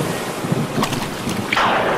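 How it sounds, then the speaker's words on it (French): Stormy sea waves in an animated story, a dark ocean battering a ship against rocks, heard as a continuous loud roar of surf and wind with a louder wash building near the end. "La mer devint noire, le tonnerre frappa, et les énormes vagues firent que le navire heurta les rochers et se brisa."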